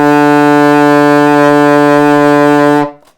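An alto saxophone sounds its low B, all fingers down with both pinkies, as one steady, loud, buzzy sustained note lasting nearly three seconds before cutting off abruptly, with no voices.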